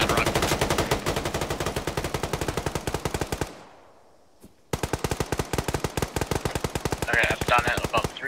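Rapid automatic gunfire in the video game Arma 3, a loud close burst of evenly spaced shots that stops for about a second, then resumes at the same fast, steady rhythm.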